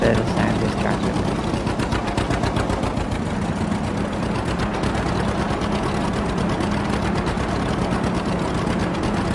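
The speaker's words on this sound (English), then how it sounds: "I prefer the sound this tractor makes." A tractor engine in Farming Simulator 22 chugs at a steady, rapid, rattling beat, loud and constant for the whole stretch with no pauses.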